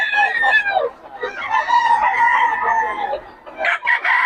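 A pumpkin sweater gamefowl rooster crows loudly and close, one long drawn-out cock-a-doodle-doo, with short clucks before and after it.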